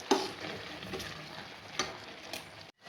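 Grated carrot cooking in milk and sugar for halwa, stirred in a pan with a soft bubbling sizzle and a few spoon taps against the metal before it cuts off.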